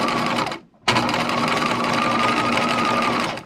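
A sewing machine runs a plain zigzag stitch through charmeuse fabric, a steady whirring hum close by that stops briefly and then resumes for a few seconds before trailing off.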